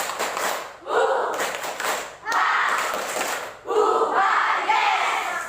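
A classroom of students performs the tepuk sambal clapping chant, shouting and clapping together in three loud, rhythmic bursts separated by short pauses.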